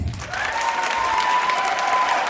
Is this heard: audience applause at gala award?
yes